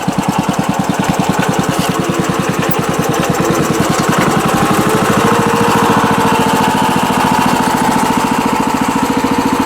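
Small engine on a compact ride-on machine idles steadily and loudly up close, a fast even chugging pulse that runs unbroken with no talk over it.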